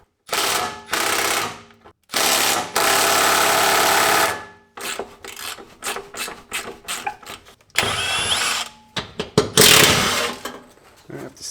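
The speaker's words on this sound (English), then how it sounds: "we're going to remove the 4 12mm bolts for this heat shield that protects the drive shaft" Power tool, likely an impact driver, spinning out 12mm bolts from the driveshaft heat shield under a VA Subaru WRX with FA20 engine, in several bursts of whirring and rattling separated by short pauses, close and fairly loud.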